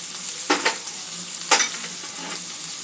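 Spiny gourd (kantola) pieces sizzle steadily in a hot oiled pan, with two clear scraping stirs of a spatula over the constant close frying hiss.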